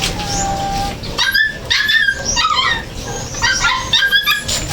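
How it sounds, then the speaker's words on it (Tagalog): A puppy named Yasi whimpers and yips repeatedly in high, squeaky bursts near the listener, with brief pauses between cries. "Maingay yung aming tuta."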